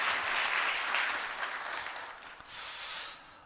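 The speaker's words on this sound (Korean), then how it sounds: "세 분 우리 청년들을 위해서 다시 한 박수 한번 할까요?" A church congregation at a Korean Sunday worship service applauds three young members, a broad wash of clapping that thins out before a brief brighter swell near the end.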